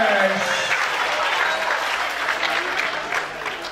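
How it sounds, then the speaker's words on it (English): Steady, full applause from a campus event audience honoring the winners, dense and close, with a voice speaking over the start before the clapping carries on alone. "One big round of applause for our winners."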